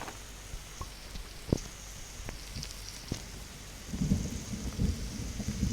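In a video game, a thunderstorm brings steady rain with sharp thunder cracks, a few scattered strikes and then a heavier rumbling roll near the end, all fairly faint and without voices.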